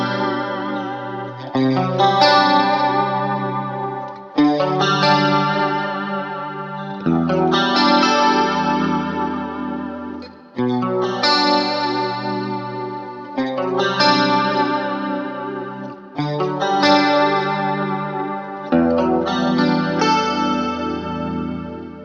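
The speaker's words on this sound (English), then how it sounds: "So this is a clean guitar sound with just the tri-chorus in front." Clean electric guitar played through a Neunaber Inspire Tri Chorus pedal, an Ibanez AZ on a bridge-and-middle split-coil setting, strumming sustained chords in steady phrases with a wide, shimmering chorus wash, loud and with no talking.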